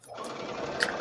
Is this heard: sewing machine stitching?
yes